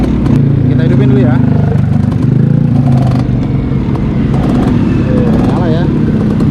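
A Yamaha Alfa 2R two-stroke motorcycle starts and settles into a loud, close, buzzy idle with a steady ringing rattle, while someone speaks over it.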